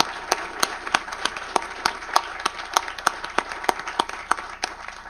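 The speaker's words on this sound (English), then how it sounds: "Let's give all of our prize winners and respondents a big round of applause." Applause from a book prize lecture audience for the prize winners and respondents, a steady patter of many hands with sharp individual claps standing out, moderately loud and continuous with no talking.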